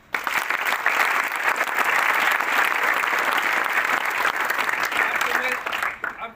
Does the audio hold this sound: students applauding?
yes